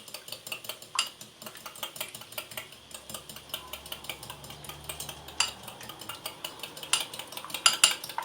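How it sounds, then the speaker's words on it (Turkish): Eggs whisked in a bowl with a fork or whisk, a rapid steady clatter of ticking strokes close by, continuous and fairly quiet, with no talking. "Çırpıyorum yumurtamızı."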